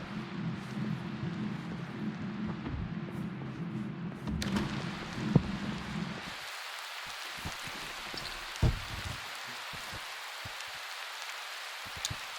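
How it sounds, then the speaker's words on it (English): Steady patter of hail drumming on a surface in a video game set in harsh winter weather, shifting partway through to a harsher, brighter hiss with scattered sharper impacts. "Oh wait, it's hail. I just noticed it's hail. That's the sound of hail?"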